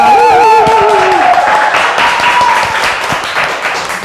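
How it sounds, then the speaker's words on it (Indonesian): Loud applause from a university crowd, a dense close clatter of clapping that starts under a speaking voice and continues steadily on its own, slowly easing. "tepuk tangan"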